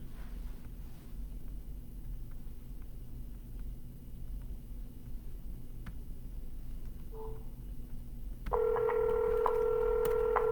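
Telephone dialing tones during a real estate cold call to a for-sale-by-owner seller, a steady tone pattern starting abruptly near the end over a quiet line hum, with no talking.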